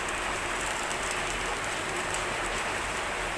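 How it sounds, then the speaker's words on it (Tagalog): Heavy rain pours steadily, a dense unbroken hiss with no voices. "ang lakas ng ulan"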